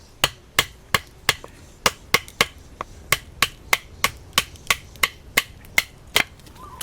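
Small MG knife chopping at a small wooden stick, giving a steady run of about twenty sharp, crisp, close knocks at a fairly even quick pace, with no voices.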